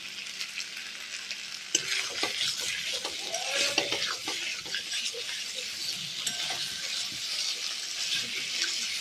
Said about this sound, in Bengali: এবার আমি দিয়ে দেবো গরম জলটা।